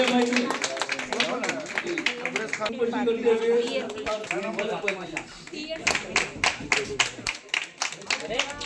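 Rhythmic hand clapping breaks out at a Hyderabad gathering as Mohammed Rayeesuddin is garlanded. Someone talks over the first half, then a burst of crisp, close claps follows.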